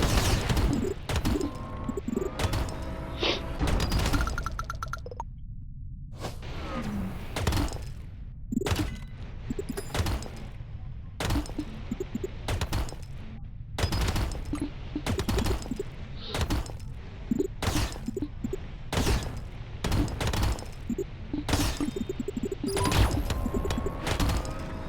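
Missiles pound space rocks in the game Idle Space Rock Breaker, a dense run of sharp blasts and crunching impacts that repeat in rapid, uneven bursts with only brief gaps, loud and close throughout.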